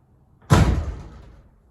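A second-hand door being shut and sticking in a studio under construction gives one sudden heavy thud, which rings out and fades over about a second.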